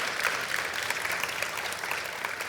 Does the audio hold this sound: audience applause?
yes